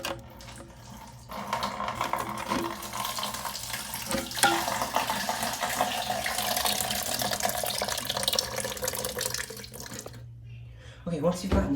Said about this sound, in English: it's just gonna start dribbling water out